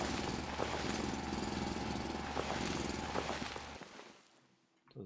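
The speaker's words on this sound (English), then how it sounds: "luckily we can drill" Drilling in the factory-building video game Foundry, a dense grinding mechanical roar with periodic thuds that holds steady, then fades and cuts off near the end.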